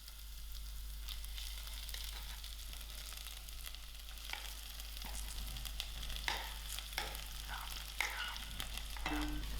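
Mashed potatoes fry with ginger and garlic in a pan for spicy kachori filling, giving a soft, quiet sizzle over a low hum, with occasional stirring scrapes growing more frequent toward the end.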